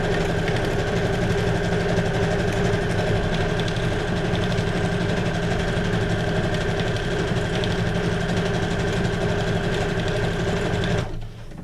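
A sewing machine running steadily while stitching decorative stitch number 67 on a junk journal cover, a close, continuous mechanical whir and rapid needle clatter that stops abruptly at the end.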